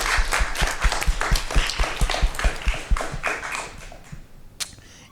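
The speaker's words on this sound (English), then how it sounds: "So let us give a round of applause to the Utterback community." Sharp, evenly spaced claps ring out in a quick rhythm at a school board meeting, tapering off near the end, with no talking.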